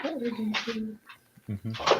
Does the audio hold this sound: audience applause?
no